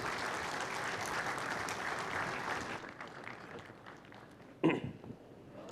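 Conference audience in Karachi applauding as a speaker is called to the stage, a full steady round of clapping that fades out midway, followed by a brief thump and quiet room noise.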